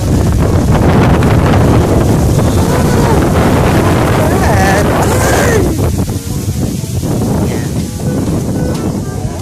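Strong wind by the Angalakan River at Patalan, Mangaldan, Pangasinan buffets the microphone in loud, continuous rumbling gusts, while voices talk faintly underneath.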